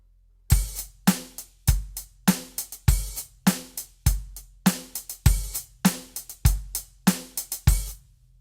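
A punchy drum pattern with kick and snare hits in a steady groove, accented by short open hi-hat barks between beats, played alone.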